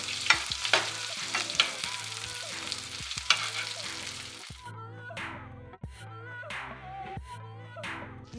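A steak sizzles and spits in a hot pan as it is basted with melted butter and thyme, with a spoon scraping and clinking rhythmically against the pan over steady close frying crackle.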